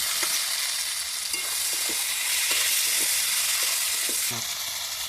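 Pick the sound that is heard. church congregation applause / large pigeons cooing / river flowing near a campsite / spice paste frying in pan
spice paste frying in pan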